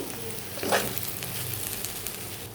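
Okra (bendakaya) fries in a pan with a steady close sizzle and one brief louder stir or scrape partway through, no talking.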